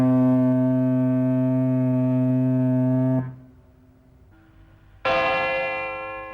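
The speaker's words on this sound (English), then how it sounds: "on the East Pier at Dunleary, a warning bell nearly 120 years old is still on standby" An old warning bell on the East Pier at Dun Laoghaire, nearly 120 years old, rings with a long sustained tone that fades, then is struck again loudly and begins to decay.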